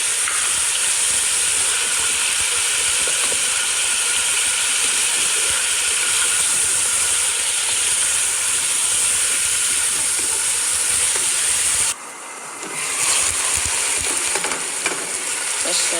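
Garlic and ginger fry loudly in a pan of hot oil for chicken biryani, a dense, continuous sizzling hiss heard close up that dips briefly near the end before resuming, with no talking.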